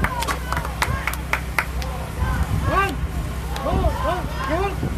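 An audience at a speaking event in Korea welcomes a speaker with scattered clapping. Several sharp claps are heard over the first two seconds, and then a voice talks over light crowd noise.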